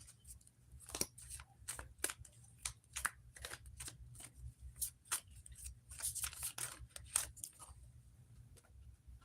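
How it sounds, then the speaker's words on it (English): Tarot cards are shuffled by hand nearby, a quiet run of quick crisp riffling snaps and flicks repeating irregularly throughout, with no talking. "y'all see me just pick up the cards and start shuffling them"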